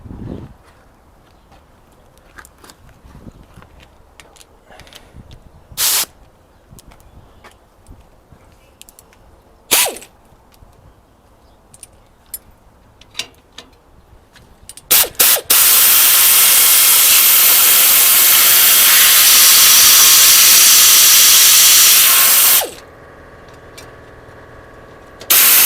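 Penetrating oil sprayed onto an exhaust bolt on a 1997 Freightliner FLD truck with a Detroit 12.7 engine: a loud, steady aerosol hiss lasting several seconds, preceded by scattered clanks and short bursts.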